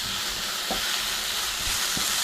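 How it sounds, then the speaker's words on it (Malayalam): Chopped onion, green chili and capsicum sauté in a pan, giving a steady close sizzling hiss throughout with a few faint soft stirring knocks. "ഒരു മിനിറ്റ് നമുക്ക് ഇതും കൂടി ഇട്ടിട്ട് വഴറ്റിയെടുക്കാം"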